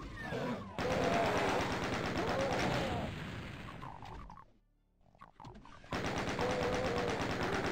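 Rapid gunfire in the classic DOOM game, with dense rattling bursts on either side of a brief near-silent gap, loud and close, with growling creature sounds mixed in.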